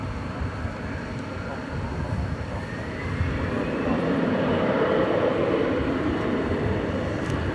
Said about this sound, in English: the Qatar A350-1000 blasting off for Doha